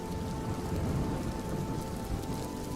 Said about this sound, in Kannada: ಮಳೆ ಬಂತು. ಬಿರಿ ಎಲ್ಲ ರೀತಿಯಲ್ಲಿ ಮಳೆ ಬರ್ತದೆ ಅಂತ ಕಾಣ್ತದೆ